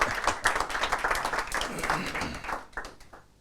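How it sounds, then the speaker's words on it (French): Audience applause welcoming the founder and president of the company LVcom at a live event, a dense burst of many hands clapping that is loud at first and then thins out toward the end. "je vous demande d'applaudir Philippe Lebossé, le président et fondateur de LVcom."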